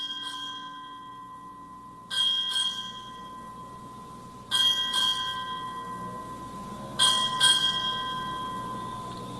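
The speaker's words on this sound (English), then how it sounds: "strike 8 bells" A ship's bell rings eight bells at a Navy change of command ceremony, struck in four spaced pairs of clear, ringing strikes that resonate between pairs in a large hall.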